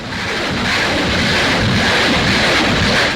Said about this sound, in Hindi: गिनते गिनते थक जाएंगे, लेकिन रूसी सेना के ये हथियार से मिसाइल का निकलना जारी रहेगा।